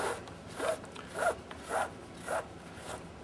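Rope being pulled through the lacing of a djembe drum during rope tuning, heard as four short, even rasping pulls about half a second apart, close by and fairly quiet.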